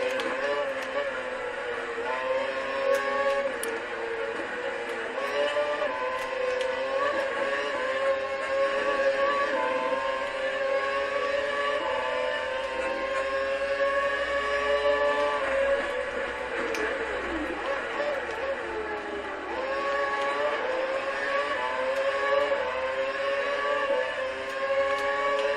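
Race cars at Circuit of the Americas in a US Grand Prix racing game scream past with a constant high engine whine whose pitch rises and falls as they shift through the gears.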